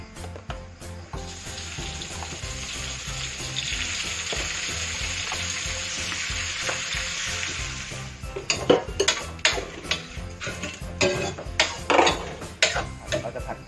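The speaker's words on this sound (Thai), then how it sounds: "เจียวพริกกระเทียมให้หอมครับแล้วก็กุ้งปลาหมึกหอยนะครับ" Chili and garlic fry in a pan for a Thai stir-fried mixed seafood dish, followed by shrimp, squid and shellfish. A steady close sizzle gives way after about eight seconds to loud, irregular spatula clatters and stirring scrapes against the pan.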